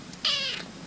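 A single pet cat gives one short, clear meow close by, rising and then trailing off, with quiet room tone around it.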